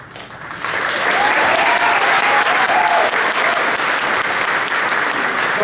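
A large theater audience breaks into loud, sustained applause that swells after a quieter start and holds steady, dense and close, with no voices over it.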